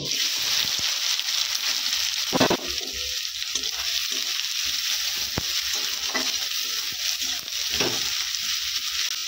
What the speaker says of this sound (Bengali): রসুনটা ভাজা হয়ে গেছে, এবারে পেঁয়াজ দিয়ে দিব।